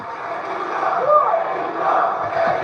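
A large wrestling arena crowd in Orlando roars and cheers continuously, swelling and dipping, with commentators' voices mixed in.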